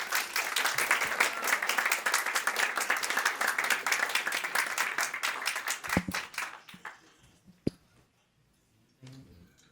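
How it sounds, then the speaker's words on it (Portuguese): An audience applauds a film team at a São Vicente festival talk, sustained loud clapping for about six seconds that then thins to a few scattered claps and near silence, with a brief voice at the very end. "E palmas para eles."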